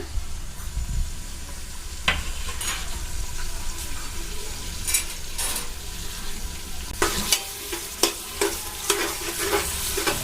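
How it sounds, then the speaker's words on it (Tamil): Whole spices such as cloves and cardamom with slit green chillies sizzle in hot oil for mutton biryani, a steady close frying hiss broken by sharp stirring scrapes and clinks, with no talk. "லைட்டாக சிம்மில் வச்சே அது வந்து பொரிய விடுங்க."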